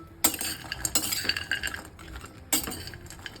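Black dried dates (kharik) are dry-roasted in a pan without oil, producing irregular close rattles and clinks as the hard pieces are tossed and stirred against metal, in short bursts with quiet gaps and no talk.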